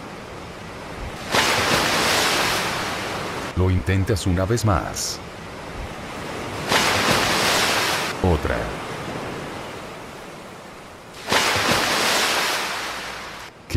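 Sea waves surging in and washing out in three broad pulses, loud and close, with someone speaking briefly between the swells.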